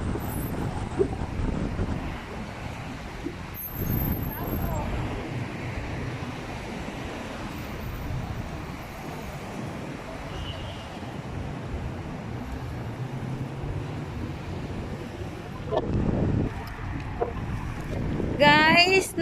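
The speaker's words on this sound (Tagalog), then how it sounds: "sobrang hangin dito" Strong wind gusts outdoors on a Dubai street near a hotel, a continuous loud roar and buffeting across the microphone with traffic-like rumble, briefly swelling louder toward the end.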